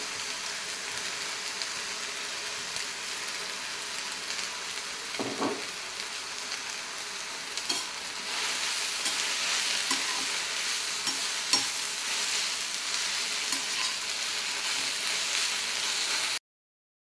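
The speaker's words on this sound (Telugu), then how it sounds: "అవసరమైతే మరొక టేబుల్ స్పూన్ దాకా ఆయిల్ వేసుకొని వేయించుకోండి" Mint leaves, green chillies and dried red chillies frying in oil in a pan, a continuous close sizzle with occasional stirring scrapes and no talk.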